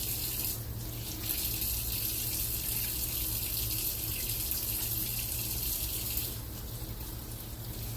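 Tap water runs steadily into a kitchen sink while hands are washed under it, a continuous close splashing rush with slight shifts as the hands move.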